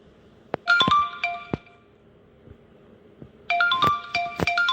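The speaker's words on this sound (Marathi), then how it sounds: "कोणाचा फोन आला?" A phone's ringtone plays in a home, two bursts of bright, repeating electronic melody separated by a short pause, with faint knocks and clicks in between.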